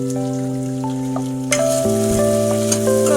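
Potatoes fry in a pan for poha with a steady sizzle and crackle. A sustained tonal hum runs underneath, and the sizzle brightens partway through.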